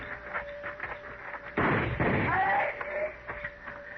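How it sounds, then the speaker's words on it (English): Gunfire sound effects in an old time radio western drama: muffled shots and a heavier blast burst out midway under tense spoken dialogue, surrounded by quieter thumps. "All right, let's move in and keep firing."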